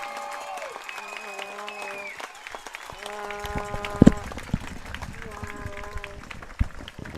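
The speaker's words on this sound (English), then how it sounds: "Getting a nice ovation here from the fans here at Lucas on homecoming" Fans at a high school homecoming football game at Lucas clap and cheer in an ovation, a broad wash of applause heard somewhat distant under a public address announcer's voice, with a band's sustained tones sounding at times.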